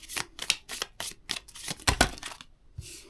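Tarot cards are shuffled and drawn in a quick run of crisp riffles and flicks, close up and steady in rhythm, with a brief pause near the end.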